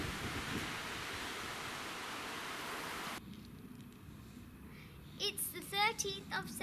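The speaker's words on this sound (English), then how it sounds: "Still very windy." Loud, steady roar of strong wind through a flowering banana plant for a few seconds, then it drops to a quieter outdoor hush as a person begins talking.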